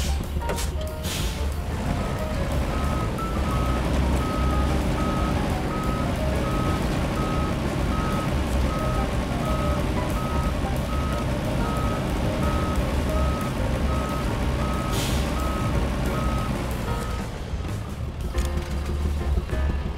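Vehicle reversing beeps from the game Expeditions, a steady series of evenly spaced beeps running through most of the stretch over a loud, continuous engine rumble, with a brief burst of heavier noise near the end.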